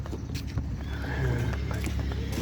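A mare being led, her hooves clip-clopping close by with a short whinny mixed in, while voices murmur in the background.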